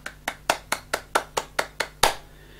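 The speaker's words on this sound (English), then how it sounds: "in this top square it actually means to clap your hands" Hands clapping in a simple children's music activity: ten crisp, evenly spaced claps in a steady beat, close and clear, the last one slightly louder, with no talking.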